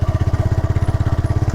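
A motorcycle taken off-road on a rough trail, its engine chugging in a steady, rapid pulse close to the listener, loud and continuous with no voices over it.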